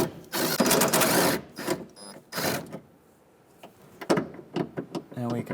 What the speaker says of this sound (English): We're going to use a 10mm socket. We're going to back out these nuts.